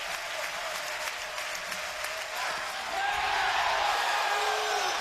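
At an Ole Miss college baseball game, an NCAA tournament regional final against Tennessee Tech, a large stadium crowd cheers and applauds, the roar swelling louder partway through and holding at full volume.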